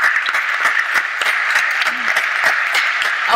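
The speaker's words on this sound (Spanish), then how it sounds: "voy a pedir un pequeño gran aplauso para Trini y toda la organización" Audience applause at a publishing-themed panel debate event, dense continuous clapping from a crowd filling the room at close range, with a few sharper individual claps standing out.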